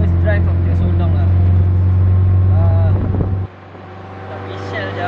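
Toyota KE70 car engine running on its first drive after restoration, a steady low hum with wind noise throughout, and voices talking over it before the sound drops abruptly to a quieter idle.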